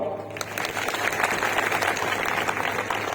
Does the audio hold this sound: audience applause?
yes